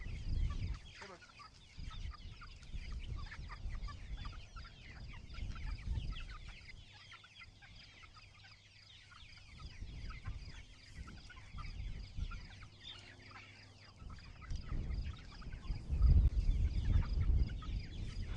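Chickens on a chicken farm clucking continuously as a busy flock, with occasional louder squawks near the end and scattered background noise.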